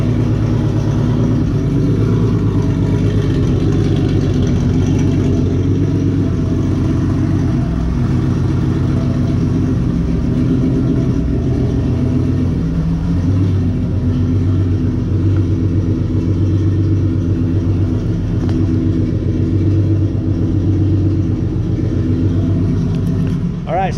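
A turbocharged Honda J35A4 engine idles just after starting, a loud, close, continuous low rumble with a steady throb and a slight wavering.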